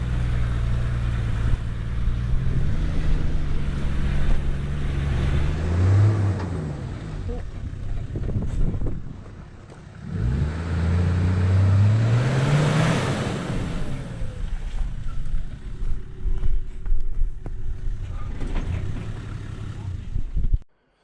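A 4WD vehicle on a muddy coastal hill climb at Catherine Hill Bay, its engine rising in two loud revving surges in second gear low, with wind buffeting the microphone and a person talking throughout.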